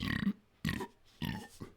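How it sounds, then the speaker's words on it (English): Several deep, rumbling burps in a row, each short and separated by brief pauses, close to the listener. "Big burp, excuse me."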